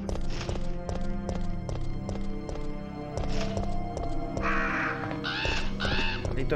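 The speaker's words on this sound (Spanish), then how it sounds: "Está lleno de cuervos, cuidado." Crows cawing in Resident Evil 3: Nemesis, harsh repeated caws in two bursts over a steady rhythmic clopping and a layered game soundscape, with no talk.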